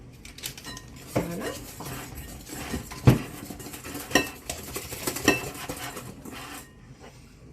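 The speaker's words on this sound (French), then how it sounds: "je mélange sucre et œuf" Sugar and egg being whisked together in a bowl for crêpe batter, giving a close, irregular run of stirring scrapes and clinks of utensil against the bowl, with a few sharper knocks.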